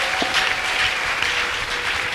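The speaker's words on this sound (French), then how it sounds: "Acclamez pour la parole de Dieu." A church congregation applauds steadily throughout, a dense continuous clatter of many hands at fairly close range with no pauses.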